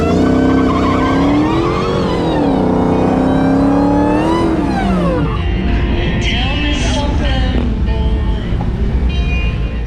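A drag racing car at the strip, loud and close, its engine pitch climbing and dropping through hard revs before changing into a rougher, wavering roar as it pulls away, with no clear talk.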